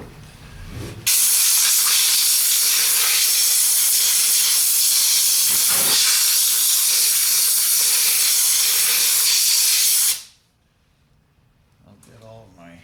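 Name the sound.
air blowing dust off 1960 Ford F100 brake shoes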